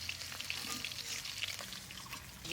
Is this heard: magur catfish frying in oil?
yes